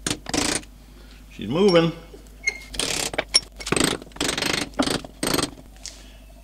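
A pin punch struck with a hammer to drive a part off a Land Cruiser FJ45 manual steering box: a series of sharp metallic blows at irregular intervals, close and loud, with a brief spoken remark in between.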